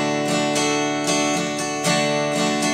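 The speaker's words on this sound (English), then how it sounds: "You can begin with a simple guitar strum." An acoustic guitar strums a steady down, down, up, up, down, up pattern in a four count, bright and close, with rhythmic chord strokes repeating evenly and no voices.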